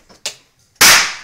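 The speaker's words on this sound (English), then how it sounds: "the quicker you do it, after I move away, the bigger the spark will be" A charged capacitor discharges in sharp electrical sparks: first a small snap, then a loud, crackling burst that fades over a fraction of a second.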